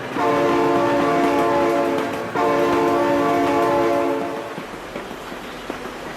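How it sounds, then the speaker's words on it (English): A train in the video game BeamNG.drive sounds two long, loud, harmonic horn blasts, the first about two seconds and the second close behind, then fades into low rumbling rail noise. "Oh my god, train!"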